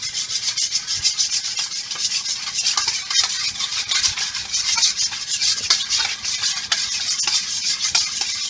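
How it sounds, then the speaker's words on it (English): Salt and sugar being stirred in water until they dissolve, a steady scraping, rubbing swirl that runs close and continuous without pause and with no talk over it. "I stir it up until it all gets dissolved"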